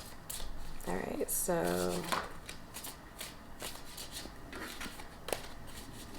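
Ghost Tarot cards shuffled by hand in a quick riffling burst, with soft card rubbing and handling afterward, close and fairly quiet, while a person talks over it.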